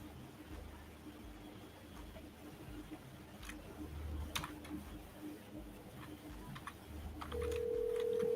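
An outgoing phone call: after several seconds of quiet room noise, a steady ringback tone starts near the end and holds, with no talk.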